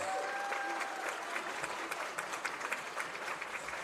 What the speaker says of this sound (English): have a one more round of applause to all the teams and student athletes who participate in this year's tournament